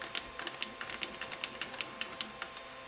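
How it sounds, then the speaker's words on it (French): A sheet of paper scrapes under the nozzle of an Ender 5 3D printer during bed levelling, giving a string of faint, quick clicking scratches at an uneven rhythm for a few seconds. "tu entends la feuille vraiment qui gratte"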